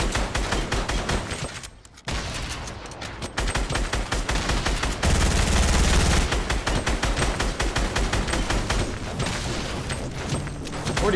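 SMG fire in Fortnite Battle Royale: dense, rapid bursts of automatic gunfire rattling almost continuously, loud and close, with a brief lull near the start and heavier shots midway.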